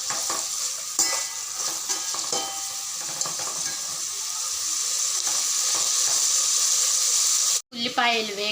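Onions fry with salt in a pan, a steady loud sizzle with occasional scraping as they are stirred, ending in a brief gap and a burst of louder hissing and clatter.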